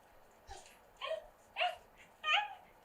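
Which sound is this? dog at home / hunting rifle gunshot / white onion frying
dog at home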